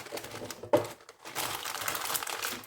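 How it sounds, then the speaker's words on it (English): A sheet of greaseproof paper crinkles close by while being handled for lining a loaf tin, with one sharp crackle followed by a quieter stretch and then a longer, continuous rustle. "Piece of greaseproof paper."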